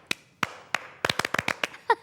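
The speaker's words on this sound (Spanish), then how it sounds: "La verdad que se merecen este aplauso" A few people clapping for a band, a sparse, uneven patter of individual hand claps close by that builds into a quicker cluster before fading.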